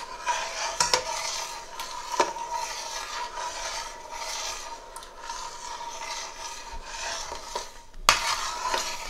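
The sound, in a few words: stirring semolina halwa with desi ghee in a big pan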